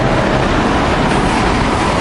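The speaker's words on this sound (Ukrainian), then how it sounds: "Станція метро называется Палестро." A Milan metro train at Palestro station gives off a loud, steady rumbling roar with a broad rushing noise, close by, without talk.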